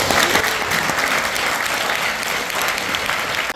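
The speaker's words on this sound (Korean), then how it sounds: "큰 박수 한번 쳐주시고" Audience at a Korean talk concert applauds steadily as one performer is welcomed, a dense, even wash of clapping that holds at full strength for several seconds before cutting off.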